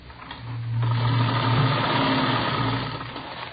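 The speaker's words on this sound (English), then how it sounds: "She was sitting calmly at a sewing machine, stitching ruffles on a dress." A sewing machine stitches ruffles on a dress as a radio-drama sound effect: a steady, close mechanical whir with a humming drone that runs continuously throughout, with no voices.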